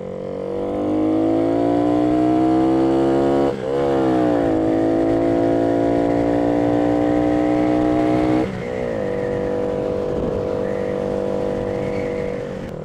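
A new motorcycle with problems being ridden: a steady engine drone climbs in pitch under acceleration, drops sharply at two gear shifts, then pulls up again, loud and close, with no talking.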